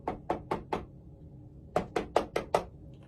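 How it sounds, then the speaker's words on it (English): Two bursts of knocking on a door, four sharp raps and then five, heard alone at night in a quiet home with no one talking. "And then I hear a knock at the door."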